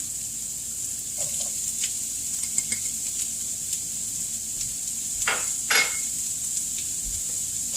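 A mixture for an avocado chocolate cake cooks down in a pan with a soft continuous sizzle and hiss, a few faint clinks and one brief louder scrape near the end, close and quiet, no talking.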